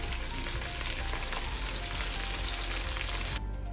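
Onion, ginger and vegetables sautéing in a hot pan make a dense, continuous close sizzle with faint stirring underneath, then cut off abruptly just before the end.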